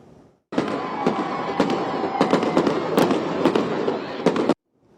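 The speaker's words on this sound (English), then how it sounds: "it didn't stop the fireworks show there" A Fourth of July fireworks show at Durham Bulls Athletic Park: a loud, continuous run of crackling bursts and sharp pops for about four seconds, with no talk.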